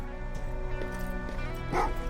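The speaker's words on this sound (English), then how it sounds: "what's with the dog? They've been like that ever since they brought that thing in." A dog in the video game Terminator Resistance barks and yips repeatedly, fairly close and loud, over a steady game ambience, with a voice speaking alongside.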